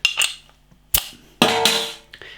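Metal cap prised off a bottle of Runaway Brewery ESB British ale, with a few sharp clicks and a quick gassy hiss as it comes free, close and fairly loud.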